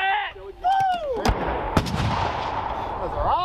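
A US Army 105 mm M119A3 towed howitzer fires in direct-fire mode during a Northern Strike 22 live-fire exercise, one loud close blast with a rolling echo that trails off.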